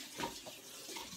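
Tap water running over quinoa being rinsed, a soft, steady splashing stream at low volume, brief and without talk.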